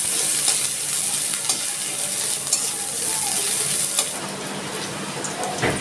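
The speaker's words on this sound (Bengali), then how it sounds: "দিয়ে দিচ্ছি কিছু পেঁয়াজ কুচিয়ে রেখেছিলাম সেটা।" Chopped onions fry in a pan with a constant bright sizzle that stays close and even, with occasional small pops and stir clicks. No one talks.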